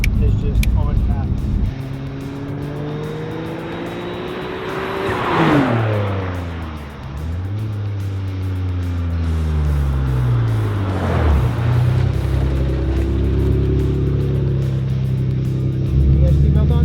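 A modified 500 wheel-horsepower Mitsubishi 3000GT VR-4 is driven hard, its engine note rising through gears with loud revving pulls, brief shift dips and a sustained heavy roar from inside the car, with occasional voices.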